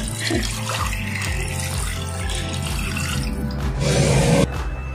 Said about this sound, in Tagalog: At ilalagay na po natin ang 1 liter ng ating tubig.